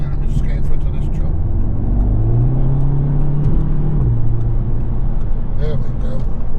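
A car engine revs up and holds a rising drone while pulling out to overtake a truck on the road, with steady road and wind noise throughout.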